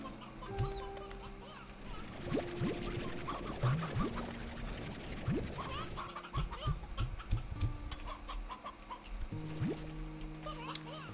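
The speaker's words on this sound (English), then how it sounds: "Hen hens are more of just kind of like the throwaway chicken." Hen hen chickens in the video game Slime Rancher 2 cluck and squawk in a busy, overlapping flock, with scattered short calls over steady game ambience and no talk.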